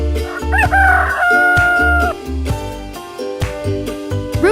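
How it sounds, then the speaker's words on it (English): A rooster crows loudly in a long, clear cock-a-doodle-doo, with a steady musical backing beneath it. "Rooster."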